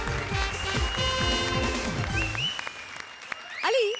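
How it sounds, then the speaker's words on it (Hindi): A comedy-show studio audience applauds loudly, mixed with tonal voice-like sounds and effects that fade out, then a short burst returns at the end. "जोरदार तालियां कपिल और पार्वती के"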